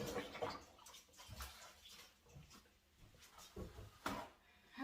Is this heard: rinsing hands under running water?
yes